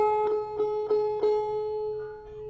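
A single high banjo fifth string, tuned to open G, plucked four times in an even rhythm, each note ringing clearly before fading.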